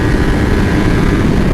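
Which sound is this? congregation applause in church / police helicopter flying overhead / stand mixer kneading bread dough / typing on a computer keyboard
police helicopter flying overhead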